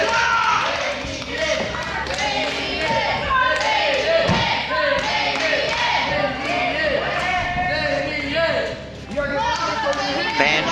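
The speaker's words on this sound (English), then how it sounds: "And you can hear the crowd." Crowd of fans at a live indoor wrestling show cheering and shouting throughout, with thuds and commentary voices mixed into the continuous noise.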